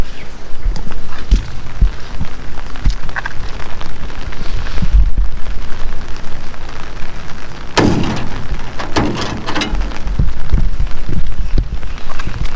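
Heavy typhoon rain pours loudly and close, a dense continuous patter with scattered louder thumps and splashes and a sharp burst partway through, with no talking over it.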